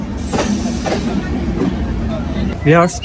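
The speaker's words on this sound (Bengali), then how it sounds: "এই যে মধুমতি এক্সপ্রেস, ঢাকা টু রাজশাহী, এটা ঢাকা থেকে সরাসরি রাজশাহীতে যায়" Madhumati Express running Dhaka to Rajshahi, heard at a station as a steady rumble of railcars rolls past, with voices over it and a brief horn-like tonal blast near the end.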